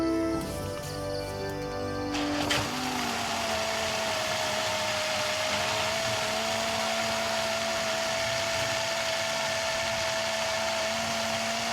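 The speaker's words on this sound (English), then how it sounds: "it's mushroom soup. How are you going to blend it?" A blender whirs through mushroom soup at a campsite, a loud steady motor whine that settles after a brief start and holds to the end, with no talking.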